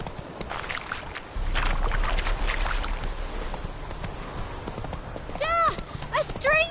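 Horse hooves clip-clop in a steady galloping rhythm in The Witcher 3, loud and close, with a rider's voice and game chatter over it.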